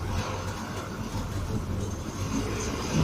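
A TSRTC bus passes by with a steady low engine rumble and road noise at moderate distance, and a voice speaks faintly over it.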